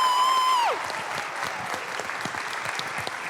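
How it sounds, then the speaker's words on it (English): Audience applause at a school play, a steady crowd of clapping that follows a short fading tone and continues evenly at moderate volume. "So if we can give him one more round of applause, that'd be awesome"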